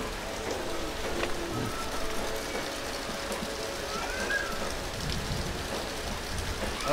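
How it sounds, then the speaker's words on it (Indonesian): Heavy rain pours steadily in a continuous dense hiss around a motorcycle workshop, with no pauses and only faint background sounds beneath it. "aku kena cakap kuat sikit sebab hujan"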